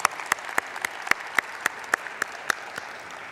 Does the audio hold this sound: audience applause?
yes